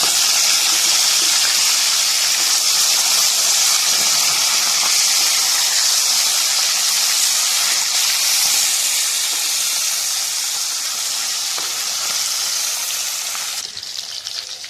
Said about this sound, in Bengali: এর পাশে মাছটা ভাজা হতে উল্টে দেবো